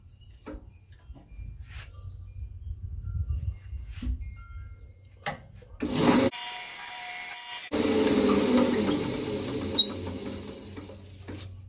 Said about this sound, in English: I'm going to sand this flat so it'll be ready for after it's cut off